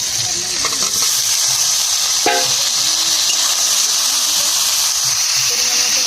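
Potatoes and tomatoes sizzling as they hit hot oil with onions in a pan, a steady close frying hiss throughout with a brief clatter near the middle.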